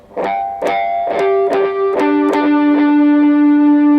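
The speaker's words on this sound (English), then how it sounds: "I tend to try to bring the harmonic out on that string." Electric guitar harmonics ring out one after another, each bright chime sustaining and overlapping with echoing repeats that build into a shimmering wash.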